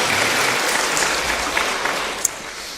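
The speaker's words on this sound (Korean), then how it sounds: "박수 한번 해주시기 바랍니다" A church congregation applauds during a Sunday worship service, greeting an engaged couple; broad, even clapping from many hands carries on steadily throughout, with one sharper clap standing out near the end.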